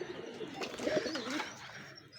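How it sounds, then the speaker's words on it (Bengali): A Kasuri pigeon coos softly and repeatedly after being released, close by in a loft setting, with faint rustling and background noise around it. "এটা কাসুরি কবুতর আমি ছেড়ে দেখাই আপনাদের"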